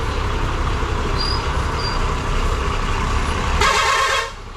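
Large buses move through a traffic jam on a road between Bhimashankar and Trimbakeshwar, a loud continuous engine rumble close by, with a horn blast sounding near the end before the noise eases off.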